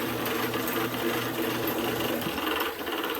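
A Ridgid K-400 drum sewer cleaner runs steadily with a dense mechanical whir and rattle, holding close and loud throughout with no speech.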